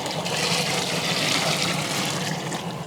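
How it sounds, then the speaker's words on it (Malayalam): Water poured steadily into a pot of whole fish curry, a continuous close splashing trickle with broadband rushing that holds level throughout, no voices. "നമ്മൾ വെള്ളം ഒഴിക്കുന്നുണ്ടേ"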